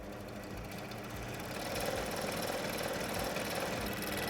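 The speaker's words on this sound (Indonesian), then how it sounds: "nyalakan mesin jigsaw dan atur kecepatan dari mata pisau" Electric jigsaw switched on with its reciprocating blade running at adjustable speed in a manufacturing workshop, a steady buzzing motor hum that grows slightly louder partway through, with no voices.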